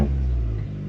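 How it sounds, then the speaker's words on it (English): A manual 2015 Fiat Abarth 500 gives a brief, close engine rev, a single short rumbling burst that fades within a second. "Give it a quick rev."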